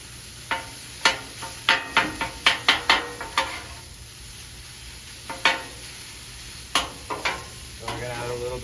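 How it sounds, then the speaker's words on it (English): A utensil scrapes and knocks against a pan while chicken fried rice with eggs is stirred and folded, making sharp, irregular strokes over a soft sizzle of frying. "we're going to start folding this rice and eggs together"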